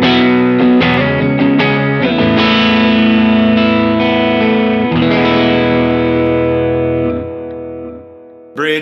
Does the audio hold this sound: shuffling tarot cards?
no